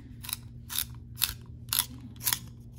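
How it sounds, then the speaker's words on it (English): A pencil is turned in a small sharpener, five evenly spaced scraping, grinding bursts, quiet and close with a faint low hum underneath. "Let me actually sharpen my pencil to like make that."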